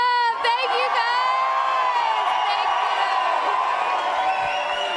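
A large crowd cheers, whoops and shouts at a CrossFit Open announcement event in a packed arena, a loud sustained roar from start to finish, with voices rising and falling inside the din.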